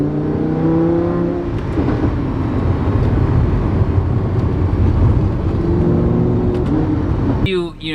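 A Lamborghini sports car engine revs loudly and steadily for most of the stretch, with brief talk from people nearby and a sudden change near the end.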